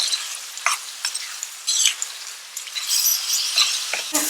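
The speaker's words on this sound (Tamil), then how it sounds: "இந்த எண்ணெயோட இருக்கும் போதே வந்து நம்ம அரைச்ச விழுதை வந்து போட்டுடலாம்." Ground masala paste dropped into hot oil for restaurant-style kara kuzhambu, crackling and sizzling in irregular bursts with stirring scrapes, steady and fairly close with no voices.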